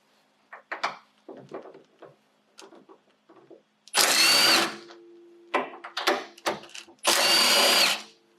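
A power tool, likely an impact wrench, fires in two loud, sustained bursts while removing the bolts of an old shock absorber from a Honda during a coilover install, with scattered clanks and taps of handling between the bursts.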